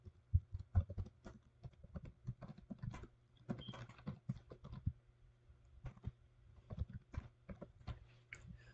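Quiet, close tapping on a computer keyboard while a custom message is entered, uneven runs of light clicks with short pauses between bursts, faint and without any voices.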